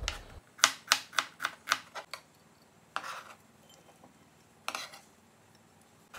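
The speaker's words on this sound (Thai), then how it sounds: "ใบมะกรูดหั่นฝอยหอมแดงซอย" A knife chops finely through kaffir lime leaves and shallots on a board, a quick run of about eight crisp, close taps followed by a pause and two more isolated cuts.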